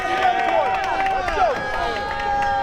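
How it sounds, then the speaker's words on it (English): Wrestling show crowd in an arena cheering and applauding, a steady dense roar with whistles and high pitched shouts sweeping through, loud and continuous throughout. "Is that applause I'm hearing?"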